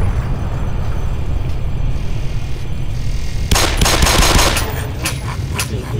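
Fast, loud bursts of automatic gunfire in the Black Mesa video game cut in halfway through and rattle on over a steady low rumble of background noise, with no speech.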